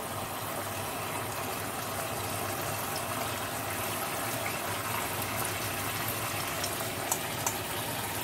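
Pointed gourd (potol) pieces frying in a pan of oil, a steady, dense sizzle and crackle with a few sharper pops near the end.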